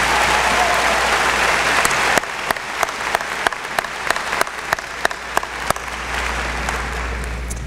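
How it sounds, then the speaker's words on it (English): Applause at a West Florence High School graduation ceremony: a crowd's dense clapping for about two seconds, then thinning into scattered individual claps, moderately loud in a large hall. "Let's give them a large round of applause for all these accomplishments."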